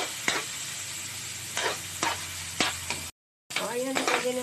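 Oil sizzles in a pan ready for sautéing, steady frying broken by several crisp utensil taps and stirs, then a short gap before the sizzle returns with a voice speaking over it.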